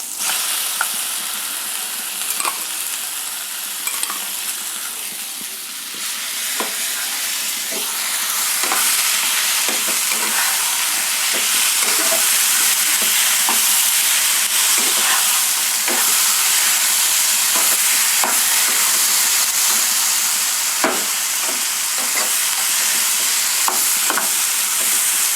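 Ground spice paste hits hot oil in a pan with fried eggplant and capsicum for paneer pasanda, giving a loud, steady sizzle throughout with scattered sharp crackles and stirring scrapes close by, no voices.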